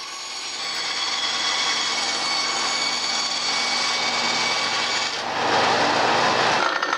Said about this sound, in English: I just went ahead and cut this all out at the bandsaw.